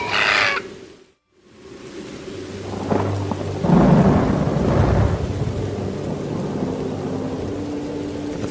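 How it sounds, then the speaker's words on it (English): Heavy rain pours steadily as deep thunder rumbles and rolls loudly nearby, the storm swelling and fading over several seconds. "the rain is unrelenting."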